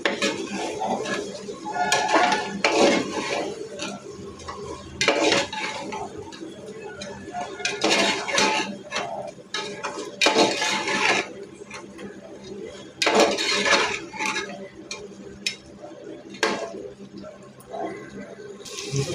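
Chicken biryani is stirred in a metal pot, giving repeated loud scraping and clattering of a spoon against the pot in uneven bursts, with a voice speaking now and then.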